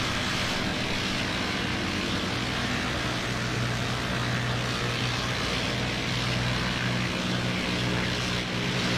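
A formation of aircraft in a flight-simulator mod, including Heinkel bombers, gives a steady loud engine and propeller drone that holds unbroken throughout.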